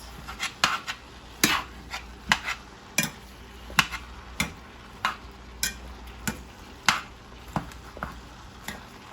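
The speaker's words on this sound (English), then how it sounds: "So I'm gonna stir everything up, the season in it." Seasoning is stirred into codfish in a pot, a spoon knocking and scraping in irregular sharp taps against the pot, fairly close but quiet, with no talk.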